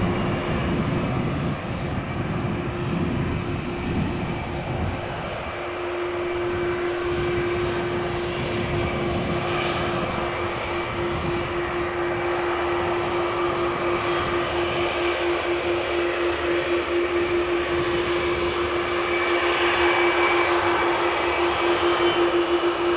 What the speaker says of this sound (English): Got an A320 from Aer Lingus behind the 737 to the left. The Aer Lingus is going back to Dublin,